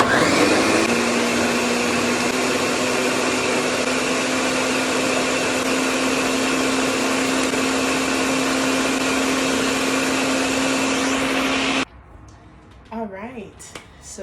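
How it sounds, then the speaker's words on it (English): Countertop blender whirring steadily as it purées chili peppers for birria sauce, a loud continuous motor drone that cuts off abruptly near the end, followed by brief faint voice sounds. "we are going to put that on the blender"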